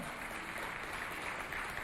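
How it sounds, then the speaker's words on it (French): Steady applause from an audience at a youth cultural centre competition, a dense even patter of clapping throughout with no pauses. "On les encourage par des applaudissements."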